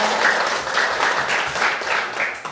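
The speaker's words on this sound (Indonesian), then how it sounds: "sekali lagi kita berikan tepuk tangan untuk semua" Applause from an audience at a school event, a steady wash of many hands clapping that fills the clip at moderate loudness, with no speech over it.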